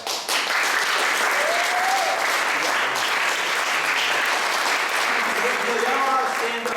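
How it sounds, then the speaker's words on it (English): A scout troop's Court of Honor audience gives a round of applause, a loud sustained crowd clapping that fills the room at an even level, with voices murmuring underneath. "So we're going to give them a round of applause."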